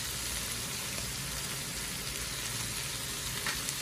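Two eggs fry with tomatoes in a pan, making a steady, close, moderately loud sizzle and crackle that continues evenly without talk.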